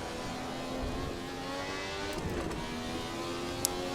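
A Ferrari 312T Formula One car's engine revs in the Assetto Corsa racing game, a steady high-pitched droning whine with layered harmonics and slight pitch swells, continuous and moderately loud with no talk.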